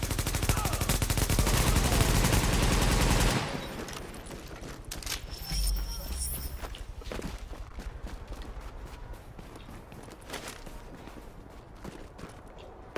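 Rapid, loud automatic gunfire from a shooting video game fills the first few seconds, then scattered fainter shots and mechanical clicks follow over quieter game ambience.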